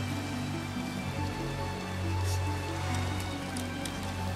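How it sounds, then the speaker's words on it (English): Rain falls steadily outdoors at a fishing spot, a soft continuous patter on surfaces with a low background rumble and no speech. "It's raining, so I'm gonna fish while I'm here."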